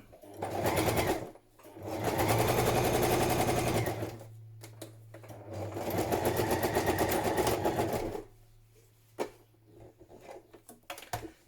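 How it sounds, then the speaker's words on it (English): Sewing machine stitching around the edge of a padded patchwork journal cover, running in two long bursts of a few seconds each, separated by pauses with light handling clicks and a steady motor hum underneath. "stitch around the edge of my upper pieces"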